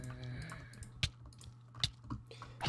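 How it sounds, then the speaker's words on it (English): Computer keyboard typing close to a microphone, irregular sharp clicks and key taps in quick bursts, fairly quiet overall with a faint low hum underneath. "with the keyboard, It's just so loud"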